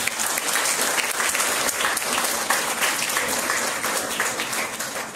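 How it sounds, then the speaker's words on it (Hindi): Children applauding loudly for CRPF soldiers at a Raksha Bandhan tribute, a dense, steady wash of clapping from a large group that fills the whole stretch without pause. "बच्चों, एक बार इन सब के लिए एक जोरदार ताली बजाएं।"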